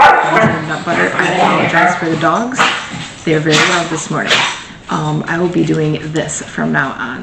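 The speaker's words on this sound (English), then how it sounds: "I apologize for the dogs. They're very loud this morning." Dogs in a house bark, yip and whimper repeatedly behind someone speaking, the barks loud and close between her words.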